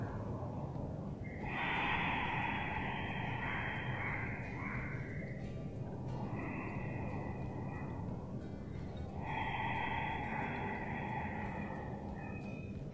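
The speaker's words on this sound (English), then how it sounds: "In this Ashtanga style, the Ujjayi breathing is something you practice through the entire asana practice." Ujjayi yoga breath drawn through a slightly constricted throat with the mouth closed, a soft hissing, ocean-like rasp heard close up in several long slow inhales and exhales with short pauses between them.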